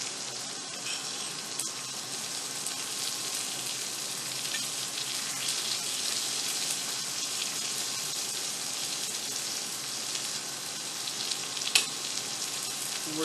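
Vegetables sauté in a hot pan with a steady, close, hissing sizzle that barely changes throughout, with only faint occasional stirring clicks.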